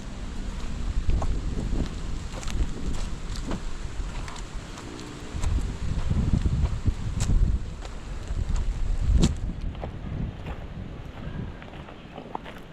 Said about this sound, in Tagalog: Lakas yung amihan ngayon. Hangin na lang po